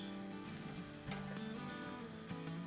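Spices, salt and ginger frying in a pan for karahi paneer, a soft steady sizzle with faint stirring scrapes and a few light clinks, quiet and close with no talking.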